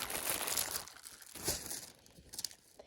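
Sheets of tracing paper and carbon paper being handled for transferring an image onto linoleum, giving close, continuous crinkling and rustling with a few sharper crackles toward the end.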